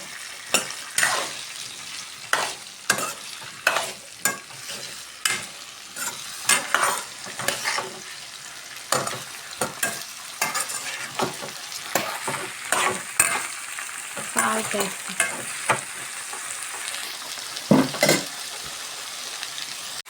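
Chopped ivy gourd stir-frying in a pan, with rhythmic, repeated scrapes and clanks of a spatula against the metal over a constant sizzle, close and fairly loud throughout.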